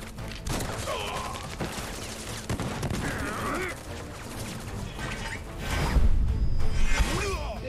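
Soldiers' gunfire in a video game set in Midgar, arriving as repeated bursts and rattling volleys amid whooshes and crashing impacts, with voices calling out over the action.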